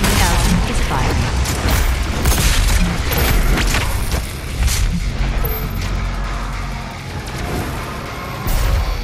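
The massive BFG 10,000 cannon firing in DOOM Eternal, a loud, continuous booming roar with heavy blasts and mechanical rumble, swelling and dipping over several seconds.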